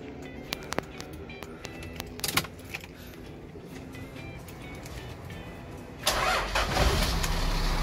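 Toyota Land Cruiser VX80 turbo, a 1998 manual 4x4, heard with faint keys clicking and jangling before the engine cranks and catches, then settles into a steady, moderately loud idle.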